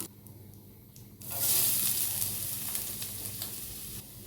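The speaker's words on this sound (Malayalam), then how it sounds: "നമുക്കിത് മീഡിയം ഫ്ലെയിമിലിട്ടിട്ട് ഒരു ഗോൾഡൻ കളർ ആവുന്നത് വരെ വറുത്ത് എടുക്കാം." Grated coconut and curry leaves frying in coconut oil, a loud sizzle that bursts in after a quiet start and then settles into a steady crackling hiss with light stirring.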